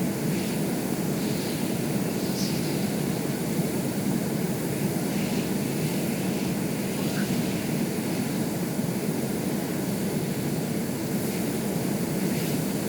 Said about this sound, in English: At an incredible speed, the aircraft lowered its throttle about 40 something